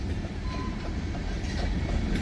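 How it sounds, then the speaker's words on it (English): A heavy freight train hauled by three locomotives rumbles past with a steady, dense low roar and faint wheel clatter, close and continuous throughout, no voices. "Pretty good hefty train."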